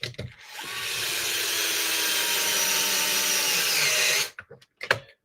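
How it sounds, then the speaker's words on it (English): An electric screwdriver whirs steadily for about four seconds while driving a screw into a Redcat Vigilante RC car until the hole strips, then stops with a few short clicks and bumps close by. "The sound of you stripping out the hole on your RC. Electric drivers will do that."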